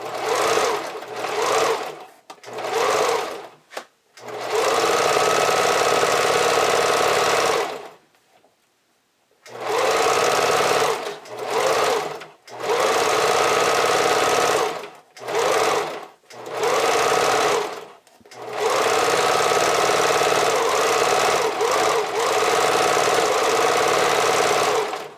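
A sewing machine running a zigzag stitch to top stitch elastic onto panties, loud close mechanical whirring in several bursts of varying length separated by short pauses.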